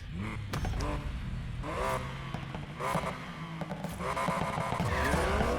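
A Porsche 911 engine in Need for Speed Payback revs up and down repeatedly, with rising and falling whines and shifts, loud and continuous.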